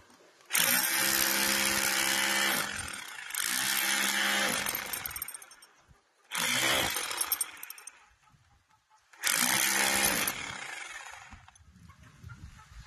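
Power drill boring into a house wall to locate an electrical junction point, with four loud close bursts of whining, grinding drilling separated by short pauses.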